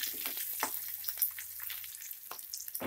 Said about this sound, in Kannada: ಈಗ ಈರುಳ್ಳಿ ಹಾಕ್ಕೊಳ್ಳಿ, ಬೆಳ್ಳುಳ್ಳಿ 1 ನಿಮಿಷ ಫ್ರೈ ಮಾಡ್ಕೊಳ್ಳಿ.